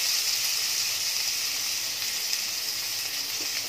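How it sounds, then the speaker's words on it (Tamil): Chopped onions and green chillies sizzle in hot oil in a pan, giving a soft, steady, continuous hiss with no voices. "2 பெரிய வெங்காயத்தை சின்ன சின்னதாக கட் பண்ணி சேர்த்துக்கோங்க."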